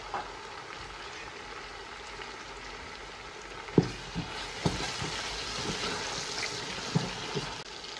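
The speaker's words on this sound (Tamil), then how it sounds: "கொஞ்சமாக தக்காளி, ஒரு 2 தக்காளி பழம், அவ்வளோதான். இதையும் சேர்த்து நல்லா வதக்கும்" Onion and tomato fry in a pan for ghee rice, a soft continuous sizzle with occasional sharp stirring clinks and scrapes, fairly quiet and without talk.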